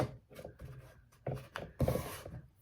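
Painter's tape being smoothed down by hand onto a wooden sign, heard as soft, close rubbing and brushing strokes in uneven bursts, with no talking.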